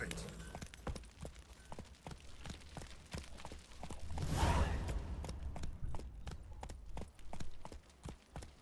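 Horse hooves clip-clop at a steady walking pace in The Witcher 3 video game, mid-distance and moderately loud, with a whooshing swell partway through and game dialogue around it.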